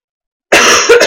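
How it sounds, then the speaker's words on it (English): A single harsh, close cough bursts out after a moment of silence, followed by a quick second cough. "I've got a horrendous cough"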